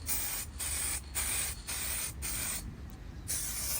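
Aerosol can spraying metallic dark green paint onto a Cannondale Capo bicycle frame, a close loud hiss in five or six bursts separated by brief pauses, no talking.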